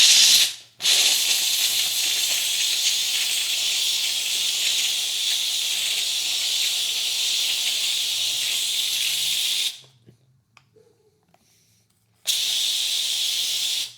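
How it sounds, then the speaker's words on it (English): A steam cleaner with a copper coil brush head scrubs dirty tile grout, giving a loud, steady hiss that cuts out briefly near the end before starting again. "now we're going to use the copper coil head here. Let's go ahead and start scrubbing."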